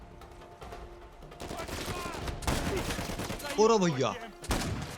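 Gunfire from the video game Uncharted 4, several sharp shots and bursts in quick succession, loud and close, with someone talking over the action.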